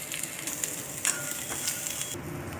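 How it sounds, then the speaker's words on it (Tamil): Boiled peanuts tipped into a pan of tempering for Navaratri sundal, a soft continuous sizzle with a few clinks and scrapes, close but fairly quiet, the frying noise dropping slightly near the end. "இப்போ வந்து வெந்த வேர்க்கடலையை நீங்கள் அதில் போட்டுக்கோங்க."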